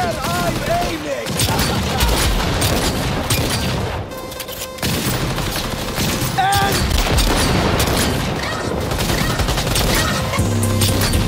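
Sustained automatic gunfire in Cyberpunk 2077 Phantom Liberty, dense loud volleys rattling close for several seconds with a short lull, mixed with booms and crashing impacts.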